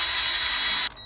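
A brief, harsh whirring grind of a drill boring out a rivet in a metal Corgi 486 Kennel Club toy model, loud and close, stopping abruptly after a second.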